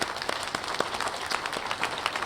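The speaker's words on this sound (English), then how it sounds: "How about a round of applause for Alex Kwan?" A conference audience at a plenary session gives brief applause, a short burst of scattered, moderately loud hand clapping.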